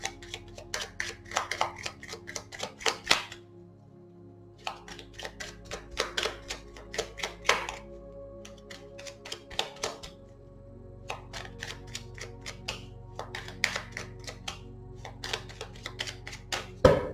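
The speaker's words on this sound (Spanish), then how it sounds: "vamos a barajar este maravilloso oráculo" Oracle cards being shuffled by hand, giving bursts of quick rapid riffling clicks in several separate runs with short pauses, close and fairly crisp over a low steady background hum.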